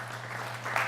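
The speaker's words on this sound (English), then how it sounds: "give them a nice round of applause" A brief burst of dense crowd applause at a frac-sand forum, steady and full, with a low electrical hum underneath.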